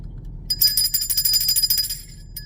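A bell rung once with a bright metallic strike and a shimmering ring that decays over about two seconds, close and fairly loud over a low background hum, in a Masonic esoteric teaching setting.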